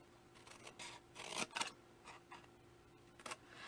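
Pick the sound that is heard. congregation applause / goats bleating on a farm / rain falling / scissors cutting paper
scissors cutting paper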